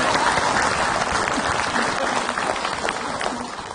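A studio audience at an Islamic religious talk show applauds steadily, a thick continuous roar of many hands that holds level for several seconds before easing slightly at the end.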